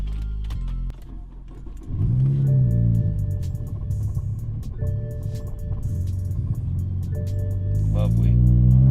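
A single-turbo N54 BMW 335i tuned to 30 psi cranks and fires, then settles into a loud, rough idle with rising revs and a whining harmonic tone, running close by without talk.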